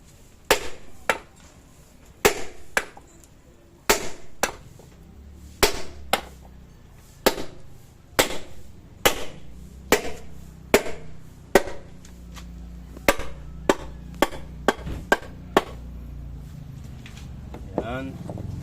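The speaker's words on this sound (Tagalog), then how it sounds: "Tapos gagamitan ng maso." A sledgehammer tapping a wood block to drive out a cylinder liner on an Isuzu 4BE1 engine, about two dozen sharp woody knocks in a steady, unhurried rhythm, close and loud, with someone talking between blows.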